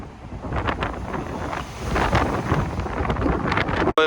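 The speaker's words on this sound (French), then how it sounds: "ouais le vent est encore plus fort que tout à l'heure" Powerful sea wind roars steadily into the microphone at a seafront supercar gathering, a loud, unbroken low-frequency buffeting with a brief dropout just before the end, no talking.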